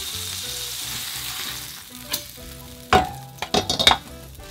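Meat sizzles and fries in a pan of lard for Nagasaki-style pork and seafood noodles, a steady crackle punctuated by a few sharp clinks and scrapes of stirring near the end.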